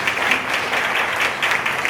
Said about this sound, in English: So if you can stand and give them all an applause for me